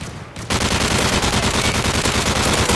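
Continuous automatic gunfire from the video game Modern Warfare 3, loud and dense, bursting in after a brief quiet start and rattling steadily for the rest of the clip.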